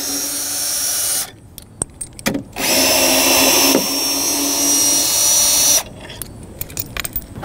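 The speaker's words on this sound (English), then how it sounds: "let's remove these lag bolts" A power drill backs lag bolts out of a trailer jack mount in two loud whirring bursts, the second running about three seconds, with clicks and handling noise in the pauses between them.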